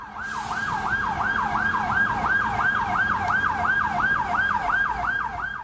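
A wailing emergency siren sweeps up and down in a fast, regular cycle, loud and close, from fire engines responding to a roof fire at the Association of the Blind building in Chișinău at night.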